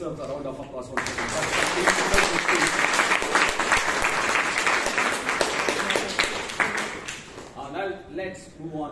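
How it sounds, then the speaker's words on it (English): A roomful of people applauds at a Bangalore Toastmasters club meeting. Brisk, dense clapping starts suddenly and holds steady for about six seconds, then thins out and fades. "she deserves a round of applause for that"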